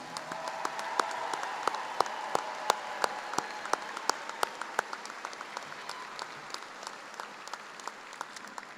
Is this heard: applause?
yes